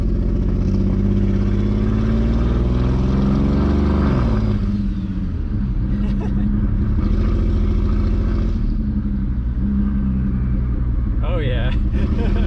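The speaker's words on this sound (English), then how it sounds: "I hear the turbo spooling." A BMW 335i with a big single turbo and a lingering misfire, heard from inside during a ride: a steady, loud engine drone that rises and falls as the turbo spools, with people talking over it.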